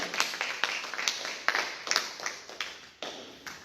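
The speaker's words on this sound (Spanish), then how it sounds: "Damos un fuerte aplauso al Señor." Church congregation clapping in praise during a sermon, a series of sharp hand claps in an uneven rhythm, moderately loud and nearby, with no talking over it.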